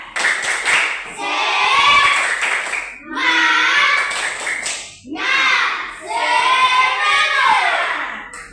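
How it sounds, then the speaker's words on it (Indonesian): Primary school class doing a rhythmic cheering clap: four bursts of children clapping and chanting together in a patterned beat, loud and close, with short pauses between sets. "tepuk semangat"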